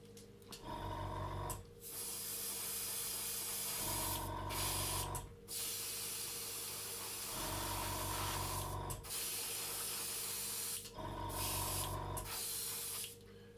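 Spray paint laid on in a thick coat over a plastic scale model: four long, loud, close hissing bursts, each lasting a couple of seconds, separated by brief pauses.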